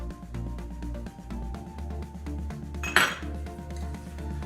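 Stew beef being mixed in a bowl, giving repeated soft clinks and scrapes of a utensil against the dish, with one louder clack near the end, all over a steady low background hum.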